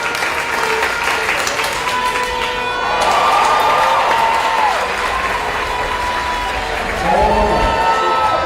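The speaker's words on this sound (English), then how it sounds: "You're hearing the claps. That is applauded for the next runner on the runway." Steady applause and crowd noise fill a junior track and field championship as spectators clap for the next runner, with swells of louder clapping and cheering.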